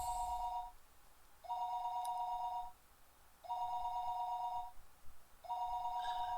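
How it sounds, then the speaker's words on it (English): A telephone rings four times in a regular pattern, each electronic double-tone burst about a second long with short silent gaps between, heard clearly against a quiet background. "Her phone would be ringing constantly, though."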